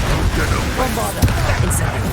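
The Bombarda spell in Hogwarts Legacy sets off one short blast midway, under a busy bed of game sound with voices nearby.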